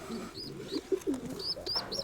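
Pigeons coo softly in a dovecote, several low repeated coos close by with faint higher chirps interspersed.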